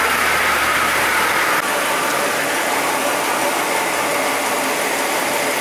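A Jeep 4.0 engine runs loud and steady right after starting, with a constant broadband mechanical roar and a slight shift in tone partway through; it has a flashing engine light but no misfire.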